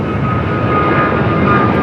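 A Royal Air Maroc airliner at LAX rumbles with a steady, loud engine roar, a continuous broadband drone with a thin whine riding on top, unbroken for the whole moment.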